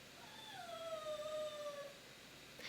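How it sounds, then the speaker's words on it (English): A dog whines faintly in the background, one drawn-out, wavering high note lasting over a second over quiet room noise. "if you hear my dog in the background"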